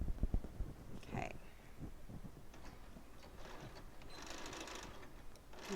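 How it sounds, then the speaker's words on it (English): A sewing machine stitches a Minky fabric pillow in a faint, steady run, with a few soft handling clicks near the start and light rustling. "back to the machine. Okay, sew those."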